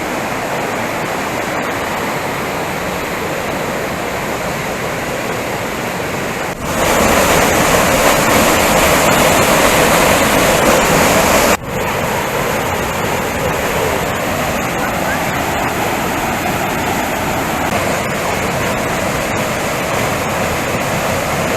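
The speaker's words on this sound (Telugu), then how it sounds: "సో చూసారు కదా భూపార్ వాటర్ ఫాల్స్." Bhupar waterfall in Goa rushes with a loud, unbroken roar of falling water, which jumps in level when the position changes partway through, then settles back to a steady wash.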